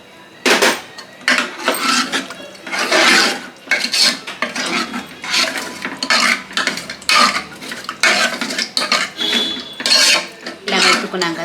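Cooked red chilli dal is mashed in a pot with a utensil, making a close, rhythmic series of scraping and squelching strokes, roughly a dozen bursts with short pauses between them.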